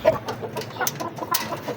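Chickens cluck in short, scattered bursts at moderate distance, a few sharper calls standing out from the soft pecking and shuffling of a backyard flock, with no talking.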